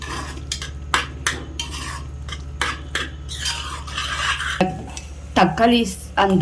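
Tomatoes sautéing in a pan for South Indian tomato rice, with steady stirring scrapes and utensil clinks against the pan over a constant low hum, and a brief voice near the end.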